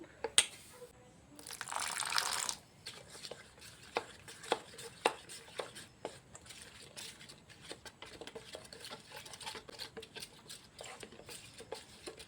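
Water is poured from a tap into a bowl of gram flour batter in a short gush, then a spoon stirs and taps against the bowl in a string of soft, irregular clicks and wet scrapes.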